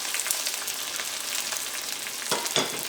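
Crushed garlic frying in coconut oil, a close, continuous sizzle with a couple of sharper crackles and stirring scrapes near the end.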